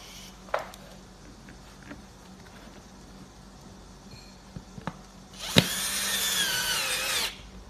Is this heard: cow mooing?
no